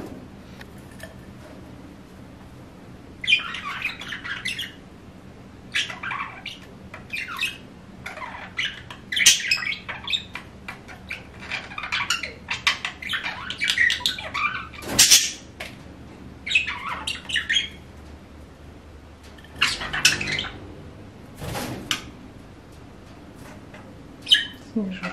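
Caged parrots, males courting females, give bursts of shrill squawks and chirps in irregular clusters that come close and loud over a faint low background hum.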